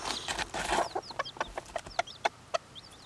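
Mother hen clucking among her chicks outdoors on an overcast day, a run of short, clear clucks at close range over high, thin peeping from the chicks, with no one speaking.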